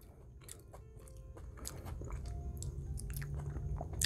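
Close, intimate chewing and biting of rice during a mukbang, with soft wet crunches and squishy mouth sounds repeating at a steady pace, no talking.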